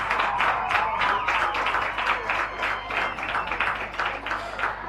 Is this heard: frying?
no